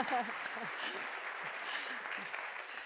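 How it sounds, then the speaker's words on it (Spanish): An audience at a culinary startup awards forum applauds a presenter, a steady, moderately quiet spread of clapping in a large room, with faint voices underneath. "Un aplauso para Alberto Palacios de Farmidable"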